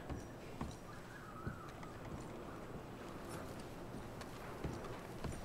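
Horses walk along in Red Dead Redemption 2, their hooves giving a steady, faint clip-clop under a constant outdoor wash of wind and ambience.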